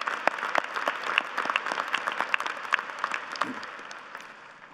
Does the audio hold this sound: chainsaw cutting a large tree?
no